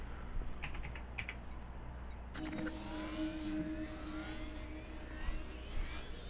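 Quick bursts of computer keyboard typing sound close by during an Elite Dangerous space game session, clustered early on, over a steady engine-like game drone that gains a sustained tone midway.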